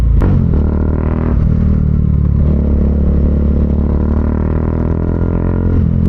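Bajaj Dominar 400 UG2 motorcycle fitted with a Zeus aftermarket muffler, revving up loud and close with a deep bassy exhaust note, rising and easing over a steady idle rumble with no talk.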